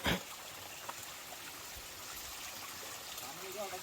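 Stream water rushes steadily at Lingya Ghat waterfall, a broad, continuous wash that stays fairly even throughout, with no talking.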